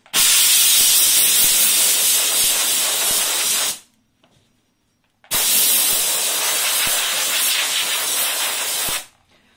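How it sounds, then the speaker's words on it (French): A Vapodil steam cleaner sprays steam over a plush toy in two long, loud, steady hissing bursts, each about four seconds, separated by a short quiet pause, close up with no talk. "je vais vaporiser la vapeur sur l'ensemble de la peluche."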